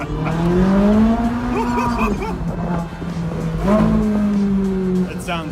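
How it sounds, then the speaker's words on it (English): A Ferrari 458 with a V8 engine and factory exhaust revs loudly on a drive in Zurich, its pitch swelling and falling in two long pulls, with people talking and reacting inside the cabin. "It sounds so good. That's a factory exhaust on it?"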